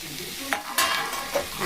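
Fried peanuts are tipped into a cauliflower and carrot samosa filling in a pan and stirred. A low sizzle runs under a clatter of nuts and spoon, with a loud scrape and a couple of clinks.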